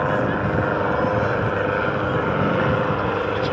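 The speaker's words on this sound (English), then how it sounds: "displaying the Schweitzer 300 for you." A Schweizer 300 helicopter flies nearby in an air show display, with a steady, droning rotor and engine hum and a commentator talking faintly beneath it.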